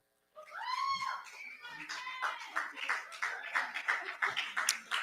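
Audience at a scholarship awards ceremony applauding and cheering for an award recipient; a steady wash of clapping with shouts and whoops rising over it, close and lively after a brief opening voice.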